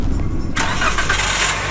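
A car engine cranked with the starter, a brief close mechanical churn that turns into a loud broadband roar as the engine catches.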